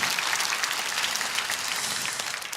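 A dense burst of audience applause for a professor at a gathering, loud and even for a couple of seconds before tapering slightly.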